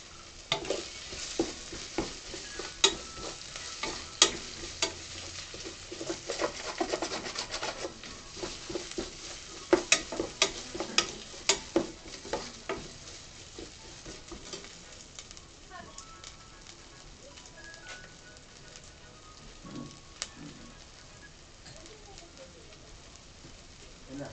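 Split green chillies and curry leaves frying in a pan of spice paste for a Kerala-style pepper chicken curry, a steady low sizzle under repeated spoon stirring and scraping, with faint bird calls in the background.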